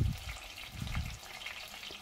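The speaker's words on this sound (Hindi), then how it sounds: "तेल को गर्म होने पे हम यहाँ पे मैगनेट किए हुए मछली को डाल देंगे" Marinated prawns fry in hot mustard oil with a steady, soft sizzle and crackle, close by with no voices.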